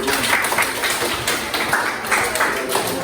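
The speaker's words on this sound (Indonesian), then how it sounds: "Terima kasih Pak Le, baru tepuk tangan" Students in a classroom clap together, a brief, moderately loud patter of hand claps rising and falling in small bursts, with some speech mixed in.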